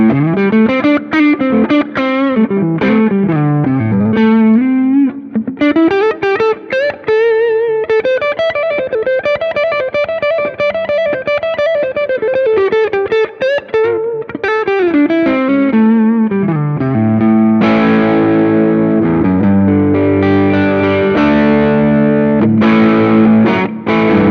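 Electric guitar with light overdrive from a Seymour Duncan 805 pedal plays a melodic line with sustained bends, ending in chunkier chords; loud and close, no voices.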